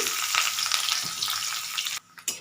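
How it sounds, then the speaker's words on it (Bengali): A medium-sized onion sizzles loudly in a little hot oil in a pan while a chicken curry is being cooked, with a dense, continuous crackle that briefly dips near the end as it is stirred. "এখন দিয়ে দেব একটা মিডিয়াম সাইজের পেঁয়াজকে আমি"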